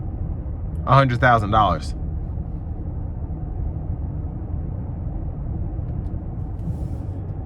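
The twin-turbo V8 of a 2022 Audi RS Q8 heard from inside the cabin while driving: a subdued, steady low drone and road rumble that continue throughout, with someone speaking briefly near the start.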